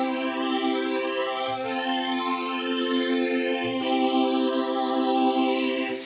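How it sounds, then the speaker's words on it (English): ARP Quadra synthesizer strings running through its built-in phase shifter: a sustained chord with slow sweeping notches gliding up and down, held steadily with faint low thumps beneath and no voices. "So with the ARP Quadra, there's a much more powerful phase shifter that sounds like this."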